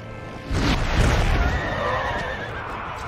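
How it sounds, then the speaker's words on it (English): Horses neigh and scream amid the din of a battle in Empire Total War, a loud whinny rising over rumbling hooves and clattering combat noise. "A lot of horse screams."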